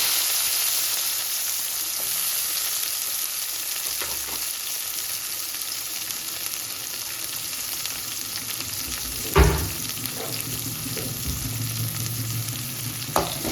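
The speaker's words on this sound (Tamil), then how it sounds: "வெங்காயம் வதங்கட்டும்." Onions fry in a pan of hot oil with mustard seeds and dried red chillies, a steady, close sizzle interrupted by a couple of sharp clanks as a spoon stirs the pan, with no speech.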